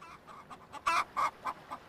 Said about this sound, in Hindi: अरे यार, मुर्गी हैं कहाँ से इतनी आवाज़ कर रही है।